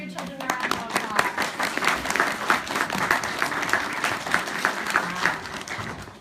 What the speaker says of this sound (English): Please give your children a round of applause.